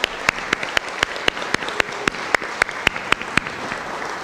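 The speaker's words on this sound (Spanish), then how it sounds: "Vamos entonces a darles un fuerte aplauso al magistrado y a la maestra Roselia" Sparse, distinct hand claps at a university lecture event honoring a magistrate and Maestra Roselia, a dozen or so sharp individual claps spaced irregularly over a quiet room background.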